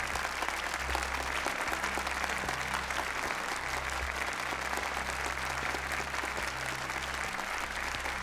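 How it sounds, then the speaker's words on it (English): Applause from a crowd in the Like a Dragon Gaiden video game, a steady wash of clapping sustained throughout at moderate level with a low background hum beneath. "Clapping but in English."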